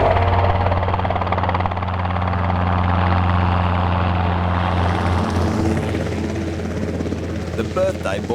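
A helicopter flies steadily overhead, its heavy low rotor drone and turbine whine loud and continuous, shifting slightly toward the end as it maneuvers during an animal capture.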